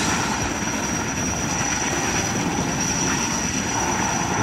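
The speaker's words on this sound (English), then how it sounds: "Firefighting helicopter." A steady, broad rotor and engine roar fills the air, a constant drone from a firefighting helicopter flying at a moderate distance.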